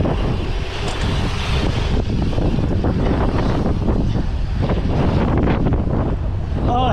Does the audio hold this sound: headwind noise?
yes